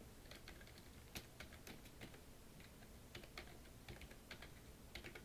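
Quiet, irregular keystrokes of English text being typed on a computer keyboard while building a PowerPoint slide for an ITQ exam, with small bursts of clicks and brief pauses between them.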